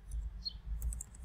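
Typing on a computer keyboard gives a few quick, faint, sharp key clicks scattered over a quiet low hum.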